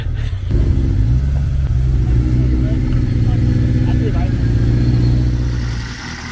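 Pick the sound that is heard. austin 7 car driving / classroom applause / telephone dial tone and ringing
austin 7 car driving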